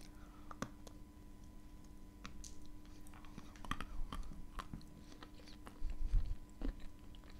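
Dry Azov kaolin clay is chewed close to the mic, with quiet irregular bites and dull crunches that grow louder toward the end. There is no speech.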